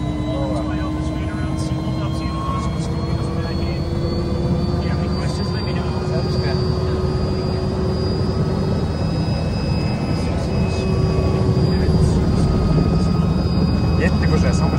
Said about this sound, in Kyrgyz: Биринчи жолу самолет вертолетте учабыз.